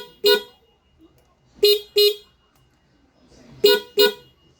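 A loud Yamaha Aerox motorcycle horn beeps five times in short blasts, one alone and then two quick pairs, close up against a quiet background.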